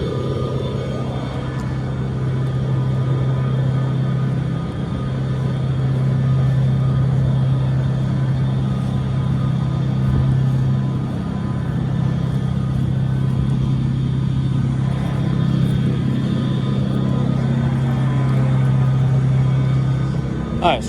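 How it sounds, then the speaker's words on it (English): A trailer refrigeration unit, or chiller, runs continuously at close range, giving a loud steady droning hum with a constant low tone throughout. "Let me switch trailers so we don't have to listen to this chiller."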